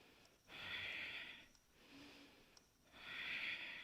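Three deep pranayama breaths, alternating inhale and exhale, each a loud hissing rush of air lasting about a second, close and unaccompanied by speech.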